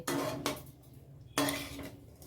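A spoon clinks and scrapes against a pot while olives and sugar are stirred for pickle, two distinct clattering strokes close by, with quiet pauses between.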